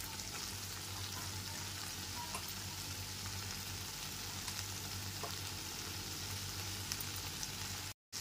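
Fried potato pieces sauté in an oily masala in a pan while soyabean do pyaza is cooked, giving a steady, close frying sizzle with faint stirring scrapes that runs unbroken for about eight seconds and then cuts off briefly at the end.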